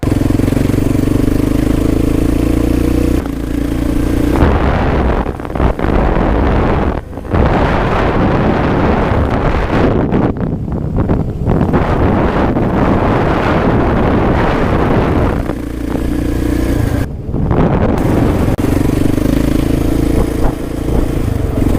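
Motorcycle accelerating hard, loud and close with heavy wind buffeting across the microphone, the engine roar sustained almost throughout with brief dips.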